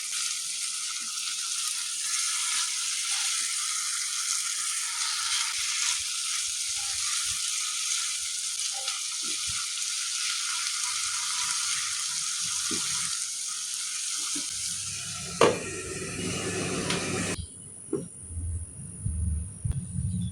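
Masala okra with chopped coriander sizzles in a hot pan and is stirred, a steady frying hiss carrying faint scrapes and clinks, then quietens near the end as a lid goes on.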